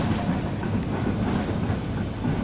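Budapest tram line 1 on its new section between Etele út, Fehérvári út and Kelenföld station, rolling past as a steady loud rumble with rail clatter, with no talk.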